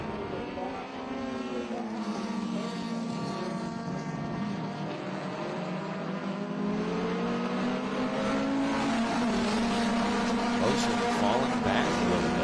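Race cars at Portland International Raceway, including a BMW, charging down the front straightaway, their engines droning and shifting pitch as they pass, steady and loud, with a commentator's voice faintly underneath.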